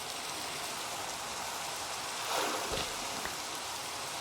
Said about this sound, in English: there's the rain, unknowingly enough